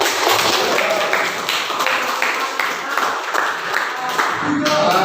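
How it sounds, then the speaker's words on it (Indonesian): Classroom applause from students for a group's homemade water filter that turned murky water clear, a steady patter of clapping sustained throughout with some voices mixed in. "Tepuk tangan."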